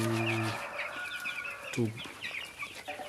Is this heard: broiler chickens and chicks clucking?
yes